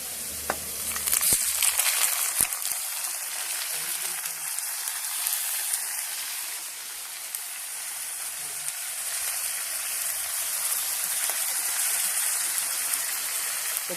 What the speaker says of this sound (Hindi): तो कलेजी को भी थोड़ा ब्राउन करना है।